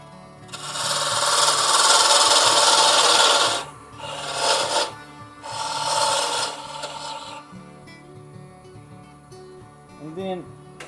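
A woodturning lathe's tool cuts a wooden Christmas ornament, a loud steady rasping scrape for several seconds, then shorter bursts of cutting, then quieter handling noises near the end.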